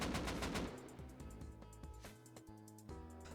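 Gunshots fire in the video game Rust as a weapon's spread is tested: loud, evenly spaced sharp cracks in a rhythmic series, with a denser cluster at the start.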